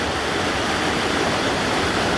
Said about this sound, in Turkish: Derenin akışı çok harika böyle sakin.